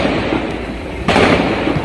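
Rapid bursts of loud gunfire from a bank robbery in Cametá, Brazil crackle continuously, with a sharper, louder volley starting partway through; no talking.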